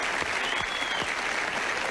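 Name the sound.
studio audience applause for the band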